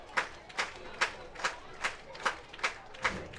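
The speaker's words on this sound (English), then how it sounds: "Avery firing up the crowd." A baseball crowd at a Hamilton Cardinals versus Barrie Baycats game claps in a steady, even rhythm of about eight beats, loud and fairly close, rallying behind the pitcher.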